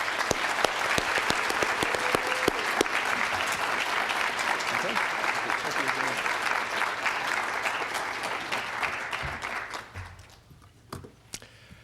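A lecture hall audience gives Izumi Shimada a warm round of applause. Dense, steady clapping holds for about ten seconds, then thins out to a few last scattered claps.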